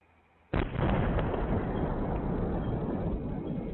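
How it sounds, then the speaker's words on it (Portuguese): Explosion at the Enaex Brasil explosives factory in Quatro Barras, near Curitiba: a sudden loud blast after a quiet moment, followed by a sustained heavy roar and rumble that carries on without fading. "apurar as causas da explosão em uma fábrica no município de Quatro Barras"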